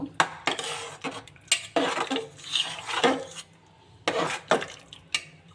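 A spoon scrapes and clatters against a pan while potato curry seasoned with garam masala is stirred, making repeated loud metallic knocks and scraping bursts close by, with short pauses between strokes.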